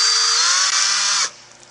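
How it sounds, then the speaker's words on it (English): A power drill bores into an Airloy aerogel disc with a steady, loud high-pitched whine, then stops abruptly near the end and leaves a faint hum. "here I'll demonstrate taking the Airloy disc and a drill"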